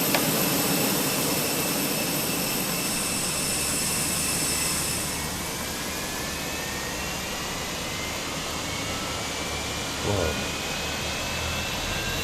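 Airliner jet engine spooling up in a flight simulator game, a loud broad whine and roar with a rising tone that settles into a steady rush, no speech over it.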